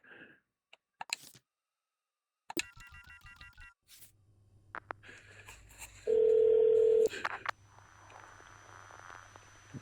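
In the video game Shadows of Doubt, a telephone receiver clicks and is picked up, a few dialing tones beep, then a steady loud dial tone holds for about a second before a ringing line hum follows, with speech nearby.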